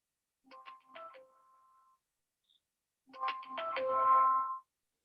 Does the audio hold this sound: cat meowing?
no